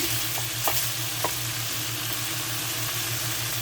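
Thin 2-inch slices of bacon frying in their own rendered fat in a pan, a steady close sizzle with a low hum beneath and a couple of brief spatter pops, no voices.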